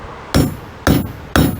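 Three hard hammer strikes on a tool during a Native American way-of-life demonstration at Hagood Mill, each a sharp ringing crack spaced about half a second apart, close and loud with no talking.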